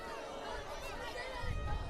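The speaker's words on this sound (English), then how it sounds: "DV crowd is loud." Loud crowd at a Dakota Valley high school football game against Sioux Falls Christian, a steady wash of chatter and cheering that swells slightly near the end.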